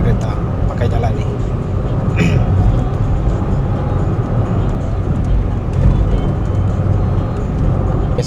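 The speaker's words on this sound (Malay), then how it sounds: "Banyak kereta pakai jalan ni." Steady road traffic with cars passing on a road near Samalaju, Bintulu, a broad continuous rumble and hiss, with a person talking over it.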